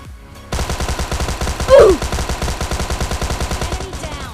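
Rapid automatic gunfire from the battle royale game PUBG Lite crackles in a steady, fast rhythm of loud repeated shots, with one brief louder burst partway through and game effects mixed in.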